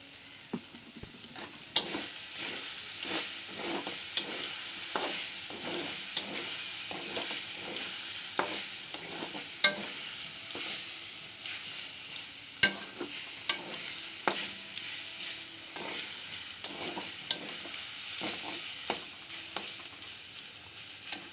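Banana flower sizzles steadily in hot oil while a utensil scrapes and stirs the pan in repeated strokes, close by, with no talking.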